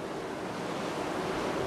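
Steady ocean waves and surf at sea, heard from aboard a ship on the Atlantic, a continuous broad wash of water and wind with no voices.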